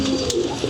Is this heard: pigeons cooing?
yes